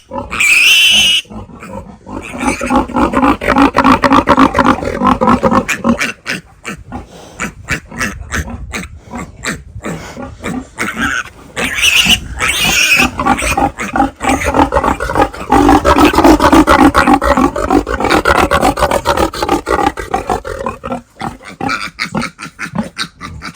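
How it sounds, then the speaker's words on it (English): Farm pigs squeal and grunt loudly and almost without pause, harsh overlapping cries close by with only short breaks throughout. "People don't realise how dangerous pigs are."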